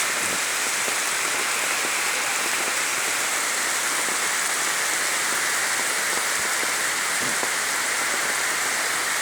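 Heavy July rain in Adana, Turkey, pours steadily in a dense, continuous hiss, drops pattering on hard surfaces close by, with no voices.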